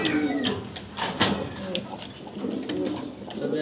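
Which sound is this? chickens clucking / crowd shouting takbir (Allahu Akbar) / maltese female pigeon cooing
maltese female pigeon cooing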